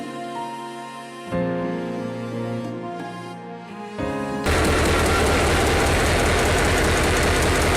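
An EMD SD40 diesel freight locomotive with a 16-cylinder EMD 645 E3 engine begins with a humming tonal drone that shifts in pitch. It then swells abruptly into a loud, steady, close-up engine roar that continues to the end.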